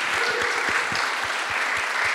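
Applause from a town hall audience at an art gallery event, a steady wash of many hands clapping with a few louder close claps standing out.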